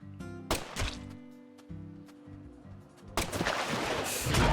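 In Deadly Premonition 2, shots are fired at an alligator: several sharp, loud gunshots ring out at the start, then a lower tonal backdrop, then a dense burst of blasts near the end.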